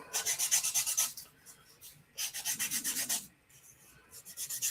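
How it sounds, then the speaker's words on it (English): Plastic model kit parts for an Ornithopter build are sanded by hand in quick bursts of rhythmic back-and-forth rasping strokes, separated by short pauses, close and fairly quiet. "These won't take too long to sand down."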